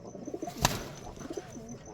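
A Rajshahi Giribaj pigeon gives soft, low coos nearby, faint and murmuring, with one brief sharp click partway through.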